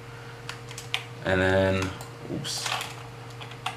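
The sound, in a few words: computer keyboard key presses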